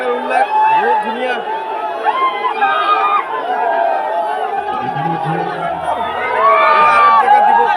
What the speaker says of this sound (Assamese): চাৰিওফালে খালি উল্লাস উল্লাস, বহুত ধুনীয়া।